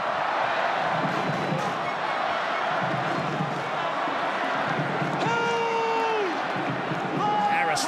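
Big crowd roaring at a rugby league finals match between the New Zealand Warriors and Newcastle Knights, a loud continuous wash of cheering under commentary, with a whistle sounding midway.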